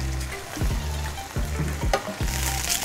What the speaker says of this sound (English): And then we cook the beef just the pan sear quickly.